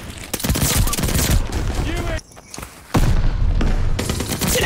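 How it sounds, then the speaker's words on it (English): Gunfire in Call of Duty Vanguard rings out inside a building, with dense bursts of shots echoing oddly off the interior and a brief lull before heavy firing resumes. "why is the sound in this building weird when shooting?"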